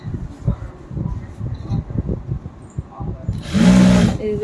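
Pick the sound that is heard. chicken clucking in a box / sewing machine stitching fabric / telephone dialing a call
sewing machine stitching fabric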